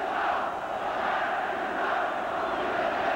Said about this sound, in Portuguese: Tem um estádio, meio estádio, gritando o nome dele.